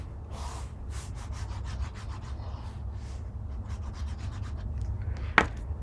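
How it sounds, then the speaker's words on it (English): Stacked paper layers for a flip book are burnished flat with repeated quick rubbing strokes, a close, soft scraping rhythm that ends in a brief sharp tap. "I'm going to just make sure they're all flat, burnish that"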